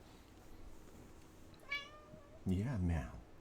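A cat gives two meows close by, a short one followed a moment later by a louder, longer call, against a quiet room.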